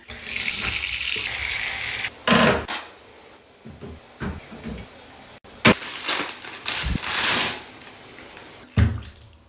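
Water running from a tap into a bathtub, gushing in uneven bursts with clunks and handling noises between, close and fairly loud.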